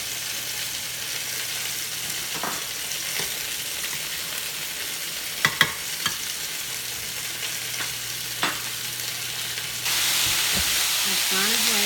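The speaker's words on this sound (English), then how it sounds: "I've gone ahead and added in the cumin, onion, and squash. And you're going to cook these until they cook down" Cumin, onion and squash cook in oil with a continuous crackling sizzle and several sharp utensil taps, the hiss swelling louder near the end.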